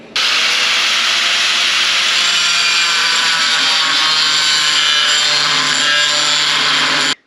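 A power tool cuts a scrap piece of aluminum for a bracket, one continuous harsh hissing, grinding cut lasting several seconds, loud and close, then stopping abruptly.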